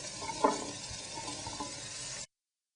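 Rice stirred with butter in a hot pan for a tiger prawn risotto, a steady close sizzle with a soft clink of the spoon early on, cutting off abruptly.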